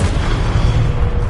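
A Confringo fire spell detonates in Hogwarts Legacy, one dense, loud, close boom that fills the whole short moment with rumbling blast noise.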